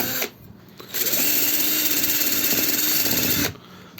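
A power drill whirs steadily for about two and a half seconds while cleaning bolts during a Znen Tommy 125 scooter restoration, starting and stopping abruptly, close and loud with no talk.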